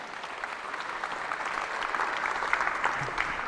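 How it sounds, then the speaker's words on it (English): A crowd at a climbing competition's boulder and lead final in Melbourne applauds the federation president, producing continuous mid-distance clapping that swells slightly toward the end. "let's have one more round of applause for IFSC President Marco Scolaris"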